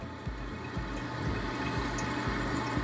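Water refilling a toilet tank after its seals were replaced, a steady close hiss and rush of flow with faint low gurgles throughout.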